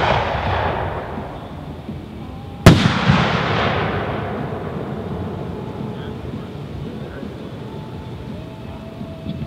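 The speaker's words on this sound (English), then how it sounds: "This is the Vulcan 4-inch pixie dust willow." A Vulcan 4-inch pixie dust willow firework shell bursts with one sharp, loud boom, then a long crackling, fizzing trail fades slowly against the earlier dying rumble of a previous shell, heard from a distance at a night display.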